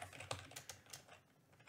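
Quiet computer keyboard typing: a short burst of several distinct key clicks at an uneven pace, close and faint, entering an update command in a terminal, with no voices.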